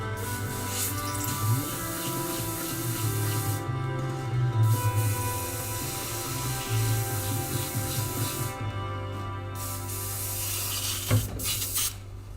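An Iwata Eclipse airbrush hisses in short bursts while spraying black paint, with steady compressor hum underneath and a few faint clicks between passes.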